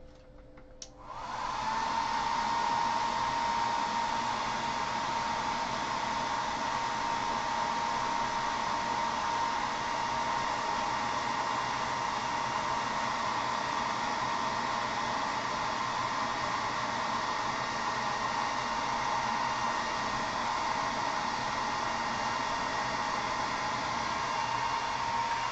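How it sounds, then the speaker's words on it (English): A blow dryer drying a wet rust finish switches on and runs at a steady roaring whoosh for over twenty seconds, loud and close, with no talk. "So back to the blow dryer."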